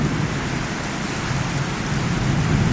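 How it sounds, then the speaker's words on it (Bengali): Heavy rain pours down during a thunderstorm in Chittagong, a loud, dense, unbroken roar of rainfall with deep low rumbling beneath it. "ভালোই বজ্রপাত হচ্ছে।"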